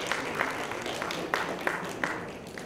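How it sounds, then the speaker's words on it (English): Audience clapping during a trading seminar, a continuous rattle of many hands at moderate volume with a few sharper individual claps standing out, faint murmuring underneath. "So who sell? Okay, clap your hand"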